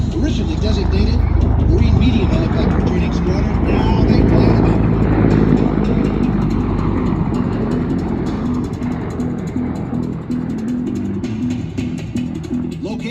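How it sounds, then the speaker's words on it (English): A CH-53E Super Stallion heavy helicopter of a Marine training squadron flies at an air show, its loud, continuous rotor and engine roar filling the air while an announcer talks over it. "The helicopter you see before you is Marine Heavy Helicopter Training Squadron 302."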